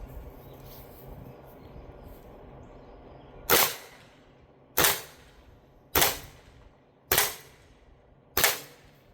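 Five sharp, loud pops from a less-lethal self-defense launcher fired at a target, spaced about a second apart, each crack decaying quickly over a quiet background hiss.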